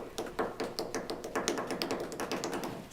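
A drum kit plays a quick paradiddle pattern of rapid, evenly spaced sticking hits for a few seconds, fairly quiet, in a home setting.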